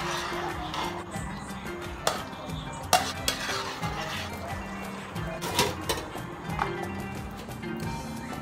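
Scraping and clinking of a spoon stirring mutton biryani in a large metal pot, with occasional sharper knocks against the rim over a low sizzle.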